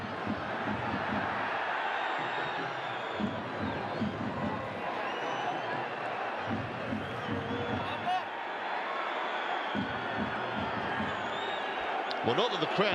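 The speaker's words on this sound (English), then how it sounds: "not that the crowd were ever quiet, but the goal has just re-energized them" A football stadium crowd at an AFC Champions League Elite match between PFC Nasaf and Al Hilal keeps up a steady roar and chanting after a goal. A commentator speaks over the sustained noise.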